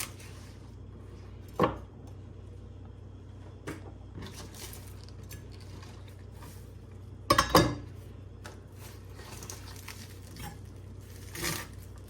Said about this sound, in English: Gonna use our parsley again, same way. Cut just the ends off.